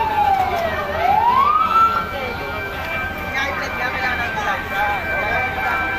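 A fire truck siren wails and sweeps in pitch over busy street noise and chatter at a shop fire in Taguig City, fairly close, with the rising and falling tone carrying through the first seconds.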